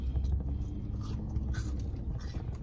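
Close, loud crunching and chewing as someone bites into a crunchy, greasy taco shell filled with meat, with dense bites running throughout.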